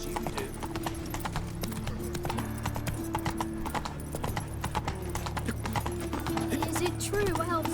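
Roach, the horse in The Witcher 3: Wild Hunt, clip-clops with steady, close hoofbeats on a hard path throughout, with faint voices in the background.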